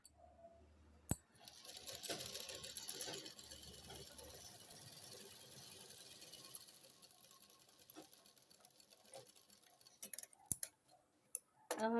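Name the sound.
sewing machine stitching a child's kurti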